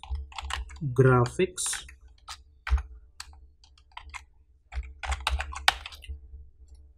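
Computer keyboard typing while text is entered in After Effects, with bursts of clicking keystrokes between brief spoken remarks at close range.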